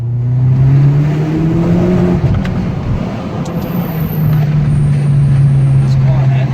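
A Corsa OPC drives on a road, its engine holding a loud, steady drone that dips briefly mid-run before climbing again as the car accelerates.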